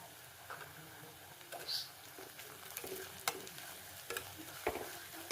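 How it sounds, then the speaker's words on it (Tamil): Crushed ginger, garlic and curry leaves sautéing in oil for a sardine roast make a faint, soft sizzle broken by a few sharper spatula taps and scrapes. "கொஞ்சம் வதங்கட்டும்."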